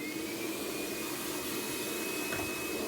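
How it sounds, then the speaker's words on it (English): A Numatic Henry cordless HVB160-2 vacuum cleaner running on high, a loud steady whining roar with a thin high tone, continuous throughout with no speech. "we'll use the Henry cordless and give it a bit of a clean out."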